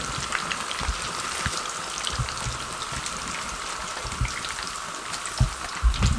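Fish pieces fry in hot oil in a restaurant-style masala fish fry, a steady crackling sizzle with scattered louder pops and spatters throughout.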